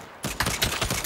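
A rapid, loud burst of automatic gunfire from the video game Saints Row, with several closely spaced shots in about a second.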